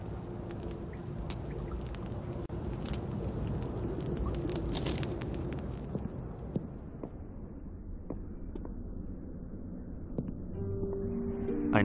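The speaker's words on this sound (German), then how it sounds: "Ein kleines Lagerfeuer." A small campfire in the game Black Mirror 3 crackles and hisses steadily, with scattered sharp pops over a soft, constant rushing bed.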